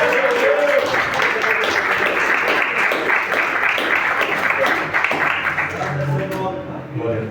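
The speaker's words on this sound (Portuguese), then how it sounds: "E as palmas a Deus, Senhor Jesus." Congregation applause during a closing church worship service, a steady, loud wash of clapping that runs under raised voices and ends with a brief musical tone.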